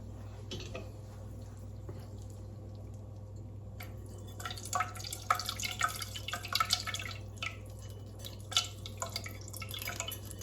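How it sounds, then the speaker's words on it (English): Whey dripping and trickling as homemade two-ingredient mozzarella cheese is strained, soft irregular drips and splashes over a steady low hum, growing busier in the second half. "And now we're just going to strain our cheese."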